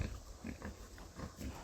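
Pigs in a silvopasture paddock with windfall apples, giving a few faint, low grunts in short bursts against quiet outdoor background.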